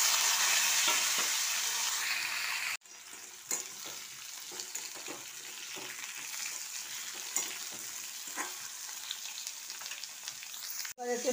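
Vegetables are tipped into hot fish oil tempered with panch phoron, fennel seeds and green chillies for a rohu curry, setting off a sharp burst of crackling sizzle that settles into busy, uneven frying with clinks, no voices.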